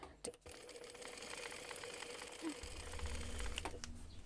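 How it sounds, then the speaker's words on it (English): A sewing machine top stitches a crossbody bag, a quiet steady mechanical whir that runs close by without a break, with a brief clack at the start and a slightly deeper hum toward the end. "And I'm going to top stitch."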